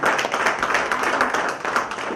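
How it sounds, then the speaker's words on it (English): Steady applause from an audience at a regional employer awards ceremony, a dense, even clatter of many hands clapping that fills the whole stretch at moderate loudness with no talk over it. "And let me applaud for you."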